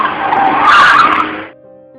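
A bus brakes suddenly and its tires skid in a loud, harsh screech lasting about a second and a half, swelling in the middle and then cutting off to a low rumbling idle, used as a horror sound effect.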